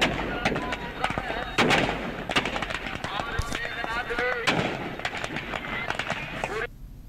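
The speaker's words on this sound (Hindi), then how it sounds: "रावण का पुतला रंगीन आतिशबाजी के बीच राख हो गया" Colourful fireworks crackle and bang as a 50-foot Ravana effigy burns during a Vijayadashami celebration, rapid loud pops and bursts over a noisy crowd with voices throughout.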